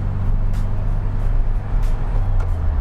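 Steady low engine drone and road rumble from inside a 1971 Volkswagen Super Beetle cruising on a highway in third gear, loud and continuous with faint wind hiss and a few brief soft knocks.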